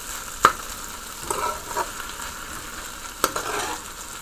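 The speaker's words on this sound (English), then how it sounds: "I have some stock which I would like to put into the beef." Beef stock poured into stir-fried beef sizzling in a pan, a steady broadband hiss with a few sharp spatters and pops, close and moderately loud with no voices.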